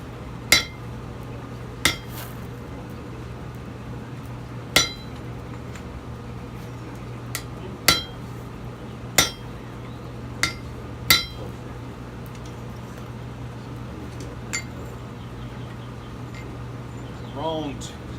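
Hammer strikes on hot steel at a forge while a hook is shaped, sharp isolated metallic clinks spaced a few seconds apart over a steady low hum, with a soft ringing near the end.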